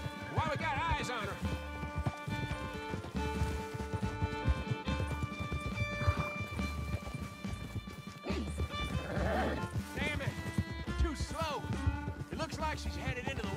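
Horses galloping in Red Dead Redemption 2, a steady rhythmic clip-clop of hooves with occasional whinnies, running under game music and voices talking.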